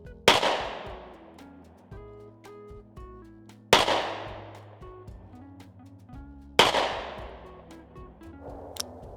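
Three sharp, loud gunshots from a Smith & Wesson 442 revolver fired single action at a target roughly 50 away, each crack ringing out and decaying, spaced about three seconds apart with no talking.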